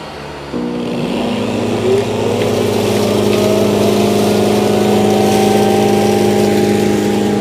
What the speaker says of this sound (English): Now it's gonna auto empty and everything's gonna go into that chamber right there.